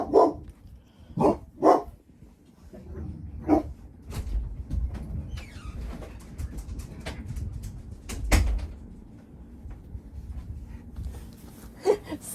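Dogs barking indoors: several loud, close barks come in a cluster at the start, with scattered further barks and door or cupboard knocks mixed with faint shuffling.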